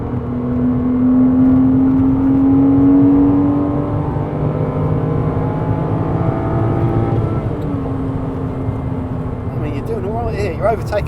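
A base Porsche Cayman lapping the Goodwood circuit at a charity trackday, heard from inside as a steady, loud engine drone whose pitch climbs, dips and climbs again, with a voice talking over it.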